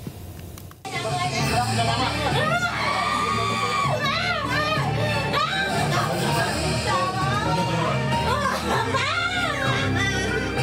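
During a drug arrest in Kampung Lalang, Medan, the suspect's family shouts and wails hysterically in loud, continuous, overlapping voices after a brief quiet start, with emotional cries rising and falling throughout.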